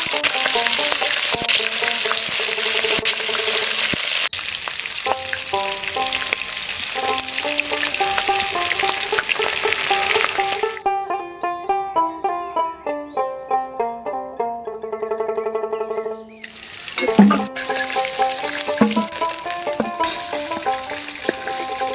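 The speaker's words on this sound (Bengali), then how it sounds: "ওই তেলে মাছগুলো ভেজে নেব।" Hilsa fish frying in hot oil gives a steady, loud sizzle that crackles throughout, with background music playing over it.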